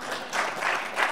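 A brief burst of audience clapping at a 2011 Arduino talk, a steady patter of many hands swelling in soft waves over about a second.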